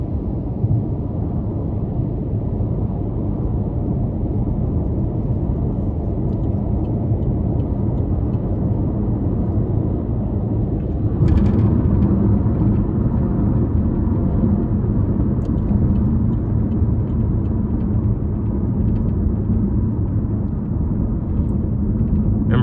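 A 2020 Chevy Malibu LT with a 1.5-liter turbo engine cruising on the interstate, heard as a steady, loud, broadband road and engine rumble from inside the cabin, with no talking.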